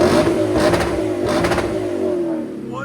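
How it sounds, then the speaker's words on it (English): A Lexus IS F with a 5.0L V8 revs while parked, two quick throttle blips building a loud, gruff engine roar that then settles back toward a lower idle. "Go ahead, rev it."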